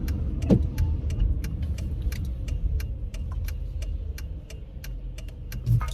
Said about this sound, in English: you can hear, I'm sure, my suspension freaking out